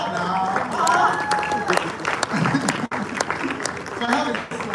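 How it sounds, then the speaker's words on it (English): A conference audience claps in a sustained burst of applause, with a voice talking over it throughout. "Clap now."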